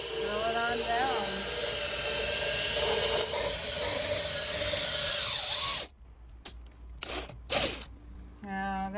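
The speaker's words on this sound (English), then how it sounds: "We're going to chuck that into a drill. Drill it on down." A power drill whirs steadily, spinning square walnut stock down into a dowel, its pitch wavering as it works, then cuts off abruptly, leaving only scattered knocks and handling noises.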